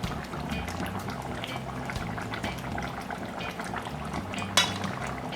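Jamaican mutton stew with Irish potatoes boils steadily in a cooking pot, giving a close, continuous bubbling and simmering hiss with a brief metallic clink near the end.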